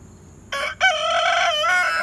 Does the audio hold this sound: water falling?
no